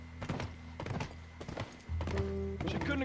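Horse hooves clip-clop in The Last of Us video game, a scattering of hollow thunks with a brief whinny-like tone near the end, mixed with a voice talking.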